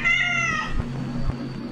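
A cat gives a single clear, loud meow at close range, falling off after about a second over faint background hum.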